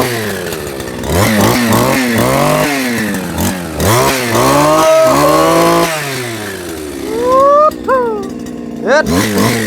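A Robin brush cutter's small two-stroke engine revving up and down in repeated bursts, loud and close, with people chatting over it.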